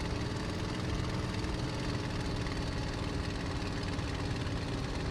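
Steady, loud, rough engine drone of a Messerschmitt Bf 109G-6 heard from inside the cockpit in a flight simulator game, a continuous tractor-like rumble with no pauses and no talking.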